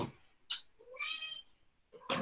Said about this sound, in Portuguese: Essa é a outra gata.